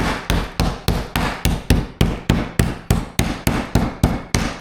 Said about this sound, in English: take the smooth side of a meat mallet, and I want to just thin those out to about 1/4 inch